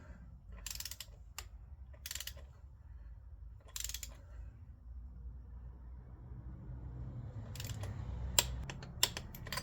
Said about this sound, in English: It's time to use the torque meter.